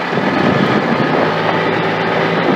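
A car engine runs loud and steady while driving after spark plug work, with a dense rumbling roar and a faint low hum, no talking.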